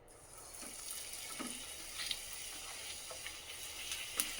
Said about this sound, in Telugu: ఎంత మంచిగా పొంగుతున్నాయి చూడండి పూరీలు.